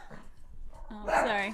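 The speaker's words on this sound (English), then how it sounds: "That's my dog." A dog barks and yips close by near the end, loud and overlapping a voice, after a quieter stretch of talk outdoors.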